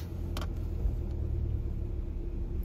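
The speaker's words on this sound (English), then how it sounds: "Oh, actually, there's a few cars. We'll just let these pass." Several cars pass along a country road near a hacking horse, a steady low rumble of traffic with engine noise rising and fading, fairly close and continuous, with no talk.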